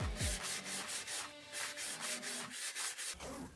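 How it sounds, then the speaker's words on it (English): Sandpaper rubs over a 3D-printed pot, dry with 400 grit and wet with finer grits, in quick back-and-forth strokes. Roughly a dozen steady, close scratchy passes with no talking. "level the surface dry with 400 sandpaper and get rid of the marks with the wet sanding with sandpapers 800, 1000 and 2000"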